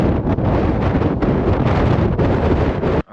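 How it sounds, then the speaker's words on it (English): Strong wind blasts straight onto an unshielded microphone on a mountain hike in Wales. It makes a loud, constant rumbling roar that buffets for about three seconds, then cuts off abruptly. "It's crazy how hard the wind is."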